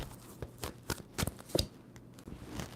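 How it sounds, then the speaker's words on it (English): Tarot cards being shuffled in soft, uneven riffles and slides close by, quiet and papery, with a few brief handling taps and no speech. "Two more shuffles, top card."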